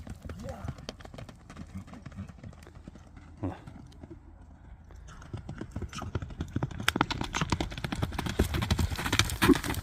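Horses for sale run past, their hooves clip-clopping in a quick uneven rhythm that grows louder and denser toward the end, with people talking faintly in the background.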